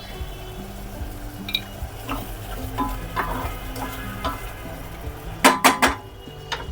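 Paneer matar masala being stir-fried in a pan, a soft sizzle under scraping and stirring, with a few sharper clinks of spoon against metal near the end.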